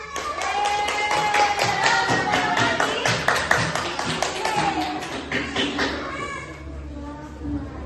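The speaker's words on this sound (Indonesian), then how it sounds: "Tepuk tangan." A classroom of children claps in a rhythmic burst of sharp hand claps, fairly close, while kids' voices chant and talk over it, fading toward the end.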